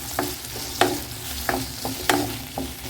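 Pirandai, the adamant creeper, sautés in oil in a pan under a continuous sizzle, while a spatula scrapes and knocks against the pan in regular strokes roughly every half second.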